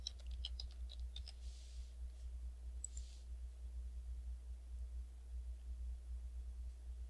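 Quiet, quick clicks of keys being typed in a short burst near the start, then a few isolated taps over a low steady hum.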